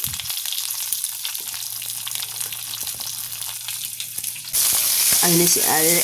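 Garlic and curry leaves sauté in hot oil in a pan with a steady sizzle and scrape of stirring, then a louder burst of frying hiss as something is added near the end.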